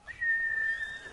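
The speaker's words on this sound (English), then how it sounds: "Whistling for your horse to come." A single sustained, clear whistle on one steady note, about a second long, calling a horse in the samurai video game Ghost of Tsushima, heard alone at close range.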